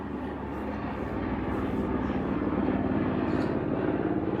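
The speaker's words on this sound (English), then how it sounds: "there's an airplane" An aircraft passing overhead, later called a helicopter, gives a steady low engine drone with a rhythmic beating texture. It stays fairly loud and unbroken throughout, with no talking.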